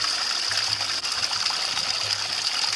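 Grand Teton snowmelt water flows steadily in a mountain stream in the national park, a continuous close rushing hiss with no break and no voices.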